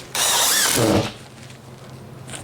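Cordless power drill driving a single screw through drywall into a wood stud at a building site: a loud close whine rising in pitch for under a second, then stopping, followed by faint handling noise.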